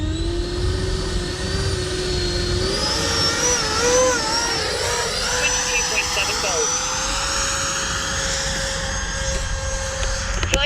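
Freewing F-22 90mm RC jet sliding along on its belly after an inverted high-alpha maneuver, a steady loud scraping roar with whining tones under it, fairly close, with people talking over it.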